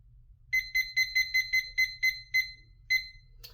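A timer alarm beeps in short bursts, about nine evenly spaced electronic beep groups with a brief gap near the end, fairly quiet over a low background hum.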